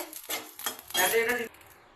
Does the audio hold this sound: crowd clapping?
no